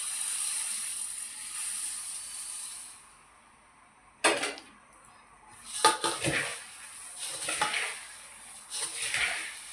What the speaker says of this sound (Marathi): आता आपण ह्यात चिरमुरं ओतायचे.